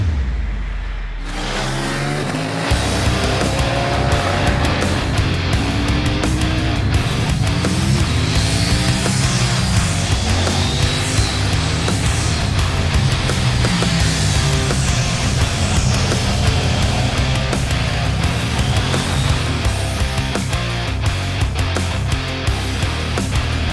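A 2021 KTM 890 Duke motorcycle starts up and is ridden hard, its engine revving and climbing through repeated acceleration sweeps, loud and close for the whole stretch with no voices.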